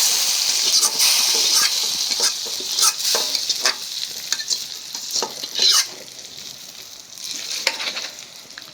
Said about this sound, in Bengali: পেঁয়াজ একটু কড়া করে ভেজে নিলাম, ভাজা ভালো হয়।